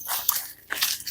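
A friendly dog met outdoors gives off a few short, close, crunchy snuffling sounds spread across about a second, fairly quiet, with no voices over them.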